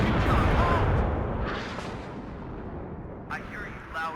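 Heavy cannon blast from an Abrams tank in the war strategy game WARNO, a loud broadband boom that decays over a couple of seconds, followed by fainter battlefield rumble and brief radio-style voice chatter near the end.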